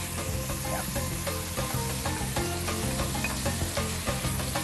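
Beef fries in oil with tomato sauce for stuffed sayote, a steady, close sizzle and crackle with occasional stirring scrapes and no talk.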